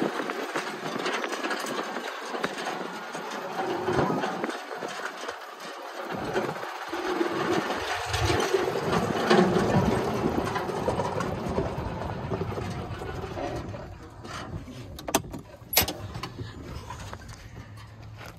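A 2002 Yamaha G22A gas golf cart with a lift kit and aluminum bed drives off, its engine droning steadily and fairly loudly up close, with a couple of sharp clatters near the end.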